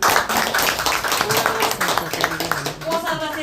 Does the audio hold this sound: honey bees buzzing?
no